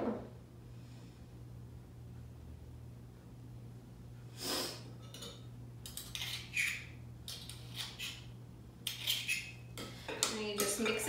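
A honey dressing is stirred in a container with a utensil, producing irregular light clinks and scraping taps that grow busier toward the end, with a low steady hum beneath and a brief sniff.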